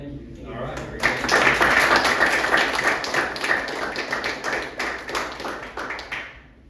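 An audience applauds after a student presentation on the Banshee UAV project, with dense, sustained clapping that swells and holds for several seconds, with voices mixed in.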